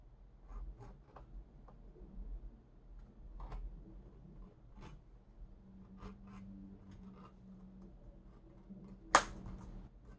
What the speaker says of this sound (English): I'm gonna go ahead and bevel the edges.